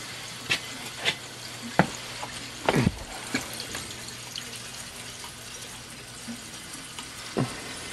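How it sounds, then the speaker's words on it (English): Air gurgling and bubbling through hydronic heating pipes with zone valves, irregular pops, splutters and short sloshing bursts over a low steady flow of water. "Sounds like there's air in the system."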